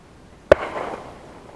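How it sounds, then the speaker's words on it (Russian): A single sharp shotgun blast rings out at a distance over a lakeside duck hunt, followed by a rolling echo that fades over about a second, with quiet surroundings otherwise. "Нет, где-то стреляют."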